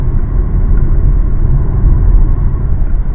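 A Polestar 2 electric car cruises at full freeway speed, heard from inside as a loud, steady low rumble of road and tyre noise with no talking.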